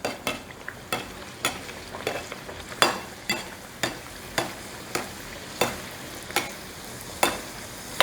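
Bread dough frying and puffing in hot popping oil, with a steady fizzing sizzle broken by regular sharp pops and clicks about every half second throughout.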